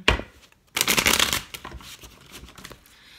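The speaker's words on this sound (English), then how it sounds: "let me give these a good shuffle" Tarot cards riffle and shuffle in quick bursts close to the listener, with a louder flurry in the middle followed by softer shuffling.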